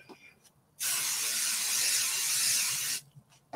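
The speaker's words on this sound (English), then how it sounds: "So I've got a little bit of a guide here. So let's just give this a spray." Spray paint can fired over a stencil in one long, loud hiss lasting a couple of seconds, close by, with quiet handling noises before and after.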